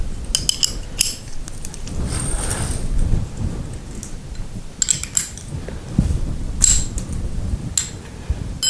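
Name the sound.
wrenches loosening garage door spring hardware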